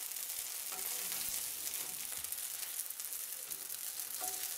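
Mochi croutons frying in a pan, a continuous dense crackling sizzle heard up close with no talking over it.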